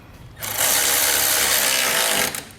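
A power tool whirs loudly for about two seconds while it tightens bolts on a Blue Ox base plate being fitted to a 2019 Mini Cooper, starting and stopping abruptly with quieter clicks around it.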